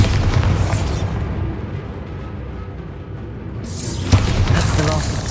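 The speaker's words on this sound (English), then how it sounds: "Bombarda." Booming explosions from the Bombarda spell in the Hogwarts Legacy video game, loud at the start, followed by a rumbling decay and a second heavy blast near the end.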